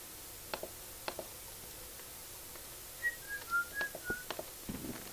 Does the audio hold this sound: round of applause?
no